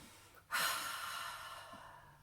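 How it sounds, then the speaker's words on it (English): A single long, close nasal inhale sniffing lavender that starts abruptly and slowly fades, with quiet stillness before it. "Let's sniff some lavender together."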